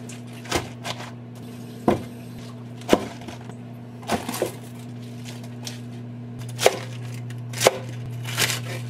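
Romaine lettuce and other salad ingredients being chopped on a board in a New York apartment kitchen, about seven separate knife strikes at an uneven pace, close and distinct over a steady low appliance hum.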